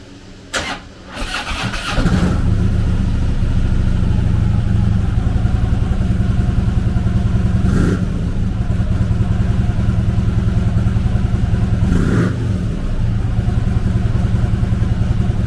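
A 2014 Harley-Davidson FLHR Road King converted to a Tilting Motor Works trike, its 103 cubic inch V-twin cranking to life, then idling loudly and steadily with two brief throttle blips.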